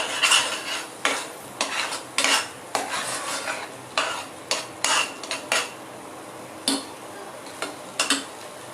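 A spoon scrapes and clinks in a pan as cardamom powder is stirred into a dish, in irregular bursts of metallic scraping with short pauses between strokes.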